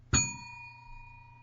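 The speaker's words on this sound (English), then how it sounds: "Notice my bell is tuned perfectly to that bit of feedback." A single bell is struck once, giving a bright metallic ding that rings on with clear sustained tones and slowly fades away, alone and close.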